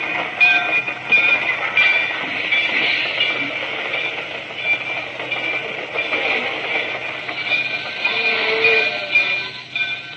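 Train rolling steadily along rails in a radio drama sound effect, a continuous rumbling clatter with metallic rattle held at an even, fairly loud level throughout, no voices.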